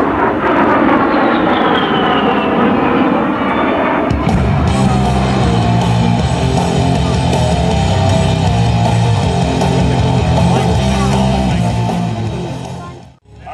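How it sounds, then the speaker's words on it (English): A USAF A-10 attack aircraft flying demo maneuvers at an airshow, a loud continuous jet roar with a whining turbine tone that swells sharply partway through and then holds heavy and close before fading away at the end. "fantastic air-to-ground capability of the A-10. Once again, juking and jiving, avoiding any threats from enemy ground-based anti-aircraft artillery or man-powerable rockets"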